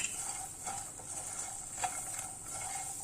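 A spoon stirs masala fox nuts with butter in a pan, giving quiet scraping and rustling with a faint sizzle in the background. Small clinks sound now and then through the short stretch.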